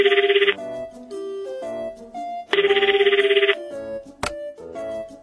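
A telephone rings for a radio call-in show, two loud bursts of trilling electronic ringtone separated by a pause, with brief musical tones between and after.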